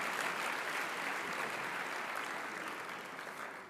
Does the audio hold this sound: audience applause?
yes